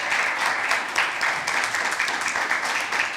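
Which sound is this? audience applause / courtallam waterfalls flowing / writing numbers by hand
audience applause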